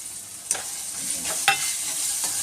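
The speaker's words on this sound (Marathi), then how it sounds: "अद्रक लसूण चांगलं आपण तेलामध्ये मस्त असं परतवायचं आहे." Ginger-garlic paste frying in oil with cooked onion and tomato for soybean keema, a loud close hiss with two sharp spatula scrapes against the pan and a softer stir near the end.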